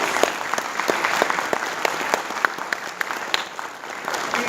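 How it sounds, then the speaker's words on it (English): Audience applause at a university science and technology awards ceremony: a crowd clapping with distinct individual claps standing out, steady and moderately close, no talking over it. "Can you all give them a round of applause?"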